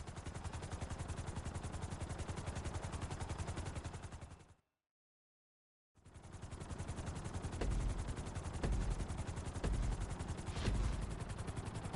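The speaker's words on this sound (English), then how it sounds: "we're going to put you in a helicopter for this lesson" A helicopter flies a lesson course in the video game GTA 5, its rotor beating in a fast, steady chop. The sound drops out briefly midway, then returns with a few sharper thuds.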